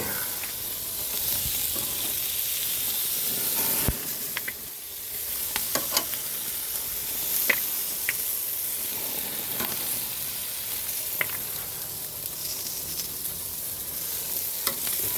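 Pork belly sizzles and spits in a hot pan with a constant close crackling hiss, broken by occasional scrapes and clinks of stirring.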